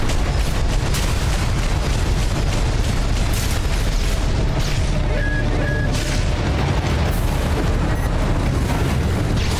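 Explosions in the video game Armored Core VI, repeated heavy booms and blasts over a dense, continuous roar of combat noise, loud throughout.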